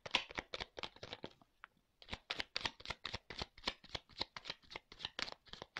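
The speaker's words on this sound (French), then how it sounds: "Je prends 2-3 cartes." A deck of tarot cards is shuffled and cards are drawn, making a fast, steady train of soft, close papery slaps and flicks with one short pause near the start.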